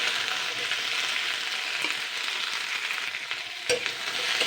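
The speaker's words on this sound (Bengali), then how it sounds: "এবার আমি শিমগুলো জাস্ট আমি 3 মিনিট মতন হালকা ফ্রাই মতন করে নেবো।" Flat beans frying lightly in a pan make a steady, close sizzle with occasional stirring scrapes and one sharp knock near the end.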